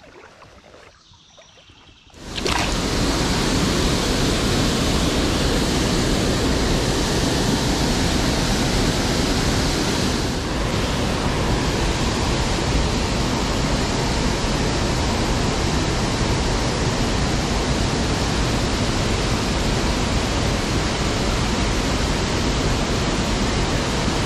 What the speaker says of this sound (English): Nice little creek, Smalley.